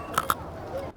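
Crisp crunching of an oranda snack bitten hard by someone sitting at the seaside: two sharp, close crunches in quick succession, then quieter chewing.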